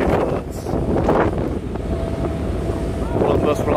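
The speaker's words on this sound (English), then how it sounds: "this boat's known as a catamaran." Steady rushing wind and churning water as a catamaran ferry to the Isle of Wight moves along, loud and continuous with buffeting gusts on the microphone.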